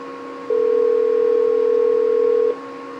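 A single long, steady telephone ring tone sounds on the line for about two seconds, loud and clear over a faint line hum.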